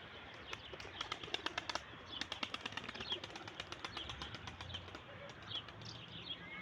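Birds flap their wings in quick clattering bursts, several rapid flutters close by, then quieter rustling with soft calls in between.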